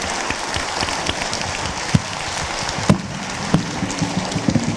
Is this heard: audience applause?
yes